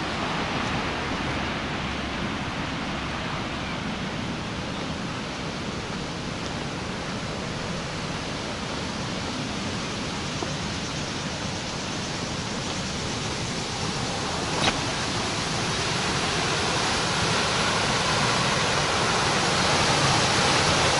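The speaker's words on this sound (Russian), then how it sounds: "Смотрите, здесь очень сильное течение, но это не река." Floodwater from the overflowing Belbek river near the Belbek water intake in Bakhchisaray surges out of a pipe under a road, a loud, continuous roar of rushing current that holds steady and swells slightly toward the end.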